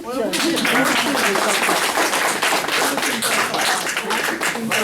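Audience at an award ceremony in Nice applauding, a dense continuous wash of many hands clapping at close range with voices mixed in.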